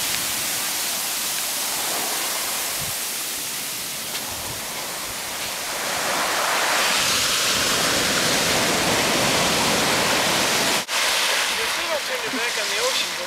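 Water rushes steadily into the ocean at a state beach in Santa Cruz, a broad, constant roar of flowing water that swells louder midway and stays dense and close throughout.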